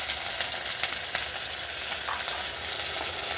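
Spices including dried red chillies, black pepper, bay leaf and garlic frying in a pan for a Santali-style katkom curry, a steady close hiss with a few sharp crackles and pops.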